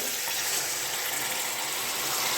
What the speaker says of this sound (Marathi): आपण हे गरम झालेले पाणी आपण त्या डाळीमध्ये ॲड करणार आहोत